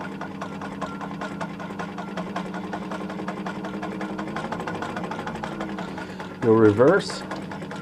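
A 1941 Singer 1591 vintage sewing machine with all-steel gears runs steadily on its widest stitch, a fast even mechanical patter close by, with a voice speaking near the end.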